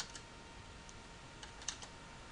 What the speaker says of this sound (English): And we're going to type in some new text.